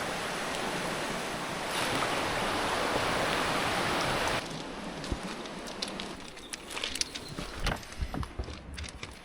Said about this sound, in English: The river has just transformed since yesterday. It's really flowing heavily.